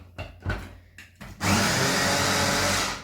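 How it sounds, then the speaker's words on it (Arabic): A blender grinding fruit and sugar for a mini cheesecake topping: a few short knocks and clatters first, then the motor starts and runs as a loud, steady whirring grind close by until the end. "غادي نبدا نطحن غادي نبدا نطحن"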